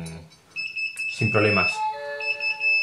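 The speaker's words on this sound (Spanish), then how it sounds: "nos está avisando con la alarma esta, que la verdad es que hace ruido" An Inkbird Smart thermostat sounds its high-temperature alarm, a steady high-pitched electronic beeping tone that keeps going while a person speaks over it.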